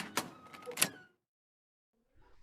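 A wooden door creaks and clicks open in an old haunted house, a couple of brief scraping knocks followed by silence and a sudden low thump at the end.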